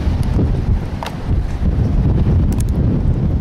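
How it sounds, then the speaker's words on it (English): Strong wind gusts buffet the microphone in a continuous loud roar at a roadside stop near the Colorado River in Parker, Arizona, with a brief faint click or two. "Look, the wind is like so strong."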